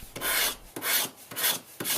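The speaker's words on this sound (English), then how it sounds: "It's real metal. Definitely one of my favorite sounds and feels on a smartphone." The metal body of a Nokia 6 smartphone is handled close up, giving four soft, rhythmic rubbing scrapes that rise and fall evenly, quiet and with no voices.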